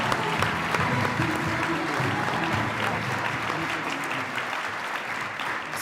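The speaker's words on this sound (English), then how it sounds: "if we could give another big, really lovely round of applause" An awards ceremony audience applauding in a hall, a steady crowd of clapping sustained at moderate level with faint voices mixed beneath.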